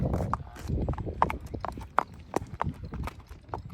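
A Quarter Horse gelding's hooves clip-clop in a quick, even trotting rhythm on a hard surface, close by, with faint background noise.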